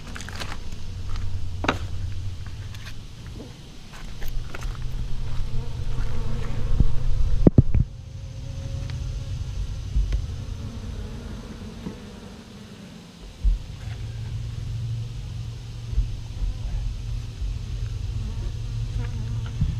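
Bees buzz around an open beehive during a hive inspection for food and hive beetles, a steady low droning hum that continues throughout, briefly interrupted by a sharp knock partway through.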